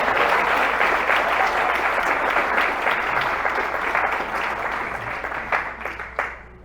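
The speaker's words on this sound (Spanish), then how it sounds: "¿Cuántos pueden dar un aplauso al Señor?" A church congregation applauds during a sermon, steady full clapping from many people that gradually fades and tapers off into a few last claps near the end.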